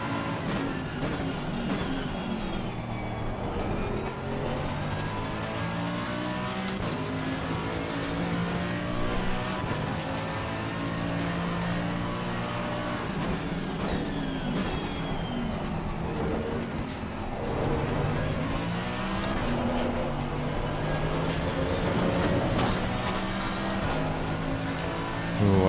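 A race car in a sim racing video game drones along at steady high revs, with its engine pitch rising and falling through shifts and corners, continuous and close without a break.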